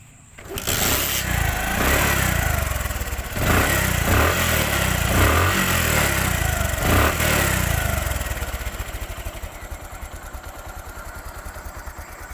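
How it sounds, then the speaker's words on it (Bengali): A Bajaj Platina 100cc motorcycle engine starts up and runs close by, a steady buzzing putter with a few uneven surges before it settles into a smooth idle. "এবার সাউন্ড দেখাবো, বাইকের সাউন্ড কেমন"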